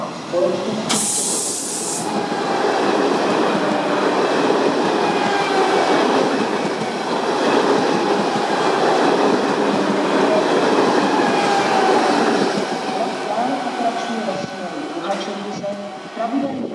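A Pendolino class 680 electric train unit rumbles and hisses steadily at close range for the whole stretch, with faint clicking wheel noise and a short high hiss burst near the start.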